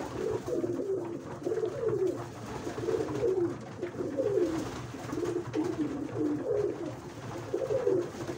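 Pigeons coo repeatedly nearby in a steady, rolling rhythm, soft throaty calls overlapping one another with a low background hum.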